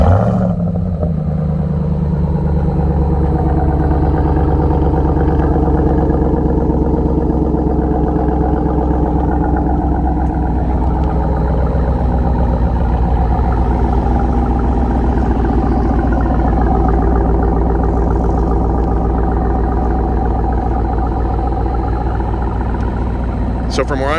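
Ram TRX with an AWE exhaust starting up and settling into a loud, steady, deep idle rumble close by for the whole stretch.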